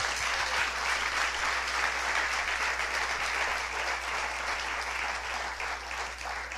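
A church congregation applauds steadily, a dense, sustained wash of clapping from many people filling the room for several seconds at even loudness, with a low hum underneath.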